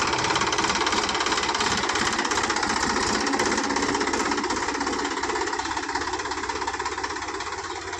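A loud, steady tractor engine hammers away nearby with a rapid, rough knocking rhythm that never lets up.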